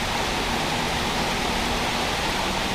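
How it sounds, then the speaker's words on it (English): Heavy rain pours down during a ride on a Kawasaki ZX6R sports bike, a dense, loud, steady hiss of water and wind filling the whole moment with no let-up. "It's really chucking it down now"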